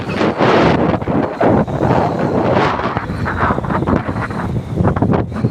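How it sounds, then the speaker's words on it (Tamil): Strong wind buffets the microphone at a rocky seashore, a loud, continuous roar with gusty surges and a faint wash of waves beneath, no voices. "பயங்கரமான காற்று."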